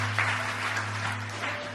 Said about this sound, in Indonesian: Kasih tepuk tangan dulu buat Tuhan ya.